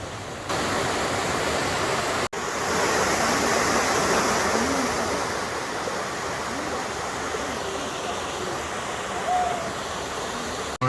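Waterfalls at Devil's Pulpit in Finnich Glen, Scotland, a continuous broadband rush of falling water, steady and fairly loud, briefly cut off once early on.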